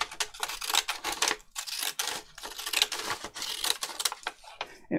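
Deckle edge scissors cut the margin off a sheet of paper in a run of sharp, crisp snips and crunches, close up and alone.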